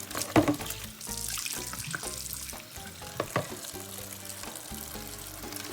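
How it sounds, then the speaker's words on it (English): Hot water runs from a tap into a sink as a steady close splashing stream at moderate volume, with a few louder knocks and clatters mixed in. "first you are going to need a hot water."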